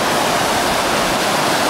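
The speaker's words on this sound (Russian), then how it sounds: "Это река Большой Зеленчук." The Bolshoy Zelenchuk river near Arkhyz, clear and fast-flowing, gives a dense, steady roar of rushing water, loud and close, with no voices.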